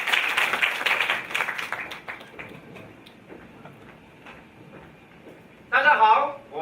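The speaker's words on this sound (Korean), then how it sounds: "큰 박수 주세요" Audience clapping at a national university student presentation contest in Korea, loud at first then thinning into scattered claps, before a voice speaks over a low background near the end.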